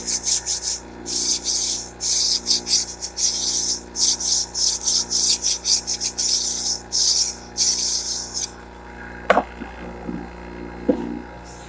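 A garden shears blade rubbed across a sharpening stone to take off the burr: quick, even back-and-forth scraping strokes up close for several seconds, then a couple of sharp clicks and handling taps.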